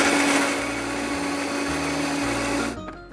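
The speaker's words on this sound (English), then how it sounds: "It's time to blend." A countertop blender whirs loudly and steadily as it purees a cheesy sauce, its motor pitch shifting a few times before it cuts off near the end.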